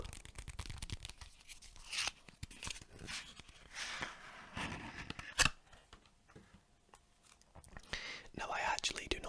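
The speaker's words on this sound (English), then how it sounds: "So let's open this deck up." Crinkly tearing and scraping of a playing card box's cardboard and cellophane wrap, close and fairly quiet, with brief rustles and a sharp snap midway.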